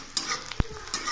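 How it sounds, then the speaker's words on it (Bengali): Onions fry in a pan with a soft, continuous sizzle, broken by a few sharp stirring clicks and scrapes close by. "দেখো পেঁয়াজটা আমার মোটামুটি দেখো ভাজা হয়ে গেছে"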